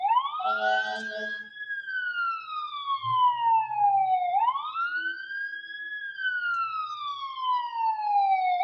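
Police sirens wail in two long sweeping cycles, loud and close as the emergency vehicles pass through traffic, with brief low rumbles from the road beneath.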